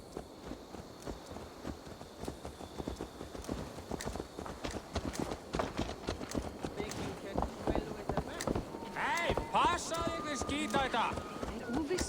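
Horse hooves clip-clop in Assassin's Creed Valhalla: a steady rhythmic walking gait of muffled hoof thuds runs throughout, under game music and a speaking voice.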